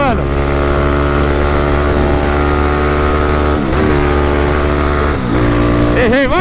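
A Honda Hornet motorcycle and a Honda Today accelerating together, a loud, steady engine drone with rising harmonic pitch sweeps near the end, close and continuous.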